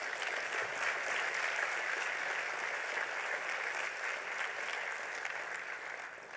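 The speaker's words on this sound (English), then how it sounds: "A round of applause for that." Crowd applause at an opening ceremony in South Africa, a steady wash of clapping that is quite faint and distant and tapers slightly toward the end.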